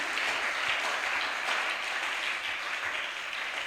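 A church congregation bursts into sustained applause to acclaim the Lord, a dense, steady wash of many hands clapping together with no pause, filling the room at an even level throughout.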